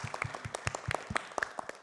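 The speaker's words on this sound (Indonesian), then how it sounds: "Tepuk tangan dulu untuk kita semua." A short burst of scattered hand clapping from a small group, quick uneven claps fading after a couple of seconds.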